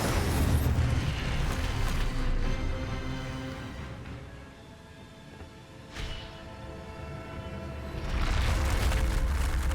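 Incendio fire spell cast in Hogwarts Legacy, heard as loud roaring bursts of flame at the start and again near the end, with a quieter dip and a sharp crack in between.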